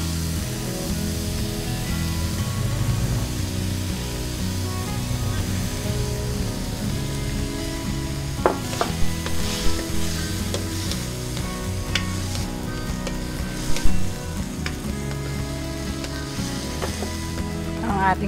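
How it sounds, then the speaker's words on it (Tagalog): Potatoes fry in oil in a pan with a steady sizzle, broken by occasional scraping clinks of a utensil stirring, moderately loud and close. "ilalagay ko na itong ating patatas para mapirito ng konti"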